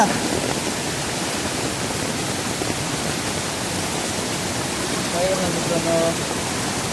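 Constant roar of fast-flowing river floodwater in Konkan fills the scene, broad and unbroken, with a faint voice briefly audible near the end.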